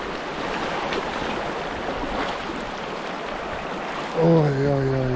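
Rushing water from a cold mountain stream being waded across on a fell hike in Finnish Lapland fills the clip with a steady close splashing wash, and a voice cuts in briefly near the end.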